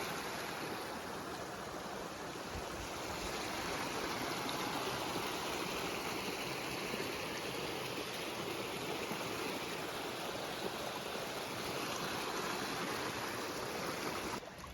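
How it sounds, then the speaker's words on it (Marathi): Mountain streams and waterfalls pour after heavy monsoon rain, a steady, dense broadband rush of flowing water that holds constant and fairly loud throughout with no voices. "डोंगराला सगळे झरे वाहू राहिले वरतून सगळे धबधब धबधब धबधब्यासारखा आवाज येतोय पूर्ण पाण्याचा"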